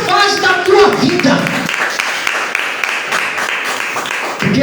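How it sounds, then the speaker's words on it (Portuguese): Church congregation at a live worship service breaking into strong applause after a pastor's voice, the clapping rising quickly and then carrying on as a dense, even patter before fading near the end. "Dá uma salva de palmas bem forte."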